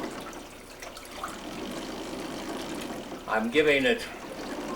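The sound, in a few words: rinsing photographic film in a developing tank with water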